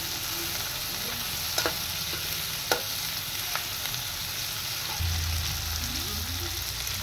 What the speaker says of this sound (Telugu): బడి ఇలాచీ అంటే చూడండి, అది స్టార్ ఫ్లవర్, 4 లవంగాలు, కొంచెం ఫ్లవర్, ఇవన్నీ వేసేసుకోవాలి, ఫ్రై చేసుకోవాలి.